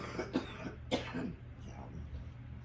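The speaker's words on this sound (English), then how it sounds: "there's always going to be a cough in my videos" Two short coughs, a brief throat-clearing rasp between them, close by and moderately loud over a steady low hum.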